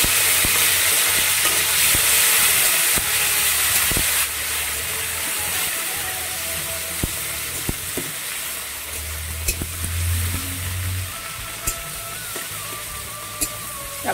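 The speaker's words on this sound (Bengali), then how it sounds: "টমেটোটা ভালো করে ভেজে নিতে হবে" Tomato fries and is stirred in hot oil with cumin seeds, bay leaves, dried red chillies and whole garam masala, making a steady close sizzle with repeated scraping and clicking strokes of the spoon against the pan.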